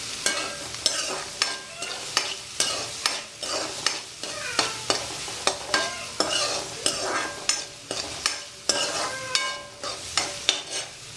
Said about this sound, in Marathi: ह्याला आता पूर्ण लाल होईपर्यंत परतायचं आहे